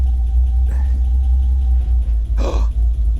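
An old BMW found abandoned in a forest rumbles steadily at idle as it is put in gear, a deep continuous engine drone with a couple of brief louder bursts near the end, no talking.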